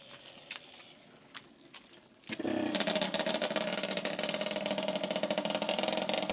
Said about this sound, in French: je vais le laisser démarrer, puis on va voir comment est-ce que la moto se comporte